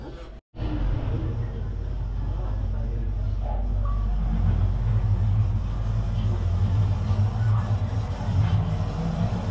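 An F1 racing car simulator at a go-karting venue drones with a steady, loud engine roar that rumbles on continuously after a brief cut-out at the start, with no clear revving peaks.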